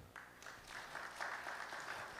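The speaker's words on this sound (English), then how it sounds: "give a big applause for Melky and Saint-Sauveur" An audience at a seminar applauding, a short burst of scattered clapping that swells briefly and holds, fairly faint and distant.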